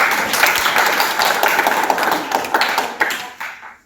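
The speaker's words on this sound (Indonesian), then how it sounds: "Tepuk tangan dulu untuk kelompok." Classroom of students applauding a group that just finished presenting, a short burst of quick, close hand claps filling the room before tapering off at the end.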